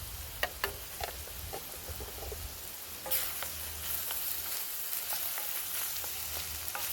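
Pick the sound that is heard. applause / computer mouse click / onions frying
onions frying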